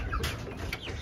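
Caged chickens, including broilers and French-breed birds, cluck in short overlapping bursts at close range on a farm, set against a dense, noisy outdoor background with no clear talking.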